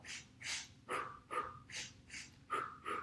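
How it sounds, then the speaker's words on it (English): A quick, steady run of about eight close breaths during a Pilates mat exercise, short sharp sniffs in through the nose alternating with puffed blows out, with no talking. "The breathing is gonna be a sniff, sniff, blow, blow."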